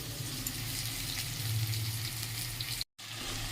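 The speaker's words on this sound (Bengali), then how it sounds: "একটু বড়িও ভেজে নিলাম।" Bori lentil dumplings frying in a pan with a steady close sizzle of hot oil, briefly cut out near the end before resuming.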